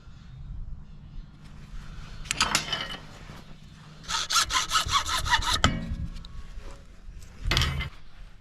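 A hand saw cuts off excess leather from a knife sheath in three rasping bursts, the last two with quick back-and-forth strokes. It is close and clear, with quiet gaps between the bursts and no talk.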